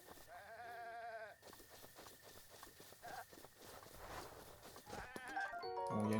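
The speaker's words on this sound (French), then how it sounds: "il y a une chèvre" Goat bleats in The Legend of Zelda: Breath of the Wild, a few short wavering calls near the start and again at the end over busy game sounds and music.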